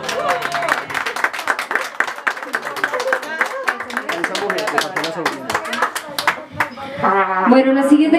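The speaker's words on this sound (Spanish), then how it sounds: "Y fuerte el aplauso para ella." A party audience at a mariachi birthday serenade claps loudly and steadily for several seconds, a dense patter of hands mixed with cheering voices, and music swells in near the end.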